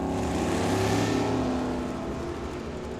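A drag racing car roars off the line at Firebird Motorsports Park, loud and close. A thick, sustained engine blare fills the whole moment and eases slightly as the car pulls away.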